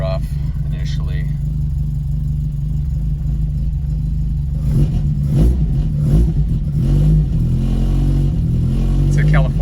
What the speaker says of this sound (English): sometimes it takes 2 or 3 times to start it, but the idle's a little rough initially